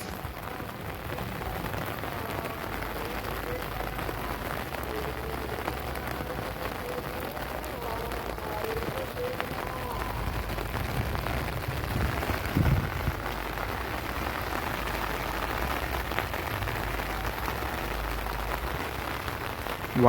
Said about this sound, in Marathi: परत पाऊस चालू.